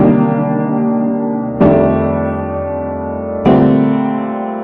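Three sustained jazz piano chords forming a 2-5-1 progression voiced in the left hand, each struck and left to ring and fade before the next, played clearly with no talking.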